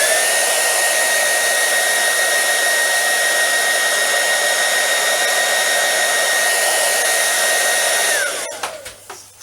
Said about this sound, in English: you can speed up the drying process ever so slightly with a small hairdryer